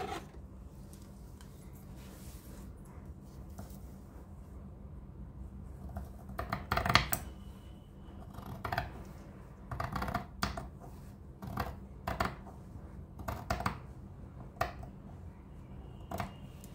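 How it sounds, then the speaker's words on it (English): Scissors snip repeatedly through a fabric seam on a polo collar, a series of short crisp cuts in irregular rhythm, close and moderately loud over a quiet room. "I am going to trim this seam"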